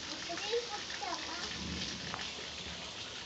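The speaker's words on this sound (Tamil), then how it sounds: "இடி சரியான இடி மழை தான்" Rain falls in a steady hiss during a thunderstorm, with a faint, low thunder rumble underneath, heard from inside a house where rain leaks in and collects in pots, with a soft murmur of voices in the background.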